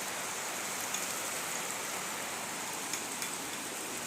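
Steady rainfall patters as a dense, even hiss, with occasional slightly louder drops standing out, no voices.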